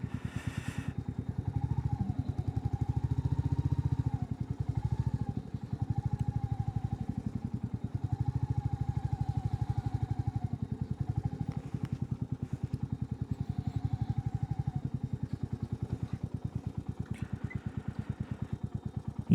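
A motorcycle idles close by as its rider parks it near a temple, with a steady, throbbing low engine rumble that runs for the whole stretch and rises briefly early on.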